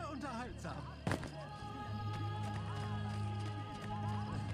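A horse in the video game Assassin's Creed Brotherhood whinnies and clip-clops, mixed with game sound effects and a brief thump, while someone talks over it.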